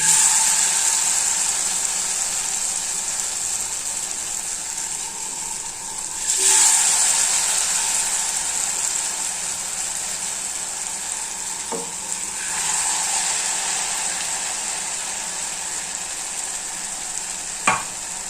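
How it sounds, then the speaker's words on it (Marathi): A slurry-coated homemade dish sizzles steadily in hot oil in a pan, a loud continuous frying hiss close by with a few brief swells and one sharp clink near the end, no voices. "स्लरीमध्ये टाकायची आणि तेलामध्ये सोडायची."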